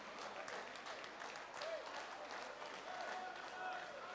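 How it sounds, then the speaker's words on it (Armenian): A wedding-party audience claps, a dense, fairly faint patter of many hands heard from a distance, with a voice speaking over it. "Ամենաբարձր ծափեր"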